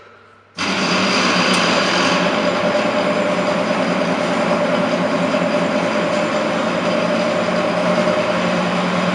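A modernized crane coupling running through the lifting stroke cuts in abruptly as a loud, steady mechanical roar and whir that holds unchanged to the end.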